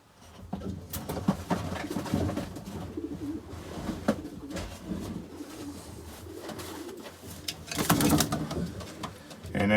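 Pigeon cooing steadily from inside a nest box fitted with an upgraded nesting front, close and fairly loud, with scattered clunks and rustling around it and a brief burst of clatter near the end.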